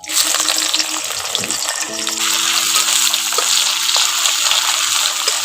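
Onions dropped into hot oil burst into a loud, close, continuous sizzle that settles into a steady hissing fry, with faint stirring clinks.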